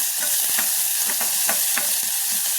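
Ground masala paste roasting with onion, tomato and curry leaves in a pan for goat head curry: a loud, close sizzle broken by rhythmic spatula stirs and scrapes, with no voices.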